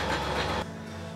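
A sewing machine stitches fabric bands onto a hat, giving a brief, close mechanical whir that cuts off after about half a second.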